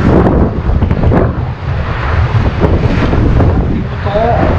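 Strong wind blusters across the microphone aboard a Dufour 375 GL sailboat under solo sail, a loud, continuous rushing roar with faint water sounds underneath.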